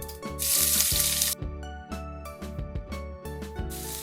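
Onion and mustard seeds fry in hot oil for a vegetable kurma, a loud burst of sizzling at first, then settling into steady crackling with repeated rhythmic scraping and knocks in the pan.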